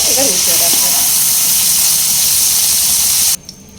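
Prawns sizzle and hiss steadily in hot mustard oil in a pan, a loud, continuous frying sizzle with brief speech near the start, cutting off abruptly near the end.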